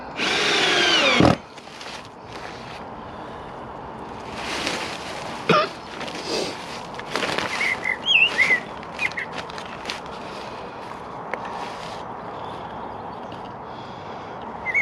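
A power drill whirs in a brief loud burst as it drives a screw into the wood of a polytunnel door, followed by quieter scattered clicks, rustles and handling noises.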